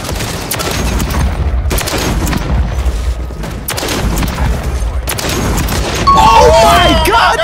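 Heavy bursts of LMG machine-gun fire in a video game shooter, loud and dense, running in long repeated volleys with brief gaps, while a voice talks over the shooting.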